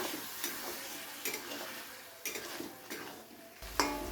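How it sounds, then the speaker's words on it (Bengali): A ginger, cumin, mustard and green chilli spice paste fries with potatoes in a pan, a soft sizzle broken by several sharp scrapes and clinks of a spatula stirring against the metal. "মশলাটা দিয়ে খুব ভালো করে কষিয়ে নিতে হবে।"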